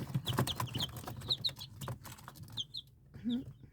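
Small chicks cheep and peep in high, quick calls, with some soft clucking close by and a few quieter gaps between bursts.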